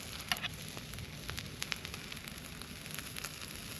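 Food sizzles and crackles on the grill of a Boundless Voyage camping stove, a steady quiet hiss dotted with small pops, heard alone at moderate distance.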